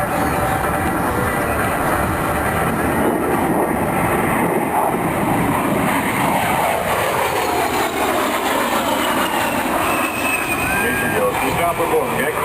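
An A-10 jet performing aerobatics at an air show in New Jersey makes a loud, continuous roar that rises and sweeps as it passes, with an announcer's voice mixed over it.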